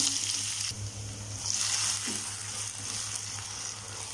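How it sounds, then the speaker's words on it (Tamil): Potato pieces frying in oil in a pan give a continuous, even sizzling hiss throughout, close and fairly loud, with a low steady hum underneath and no voices. "இதை இப்போ அந்த ஆயிலில் போட்டு ஃப்ரை பண்ணிடலாம்"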